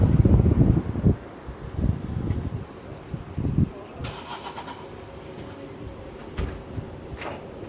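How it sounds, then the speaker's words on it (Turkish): A noisy pickup truck rumbles past outdoors, loudest in rough low bursts early on before fading away, leaving wind and faint background noise. "Şu an yanımdan çok gürültülü bir kamyonet geçiyor."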